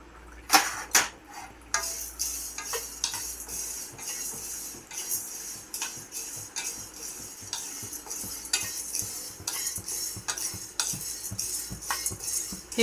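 Nagkesar spice dry-roasts in a pan under quick, continuous stirring, giving rapid scraping and clinking strokes of a utensil against the metal pan, close and fairly loud with no talk.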